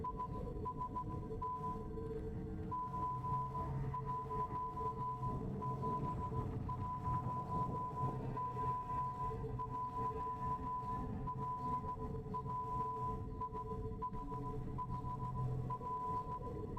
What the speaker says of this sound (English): I don't know how difficult it is to listen to Morse code.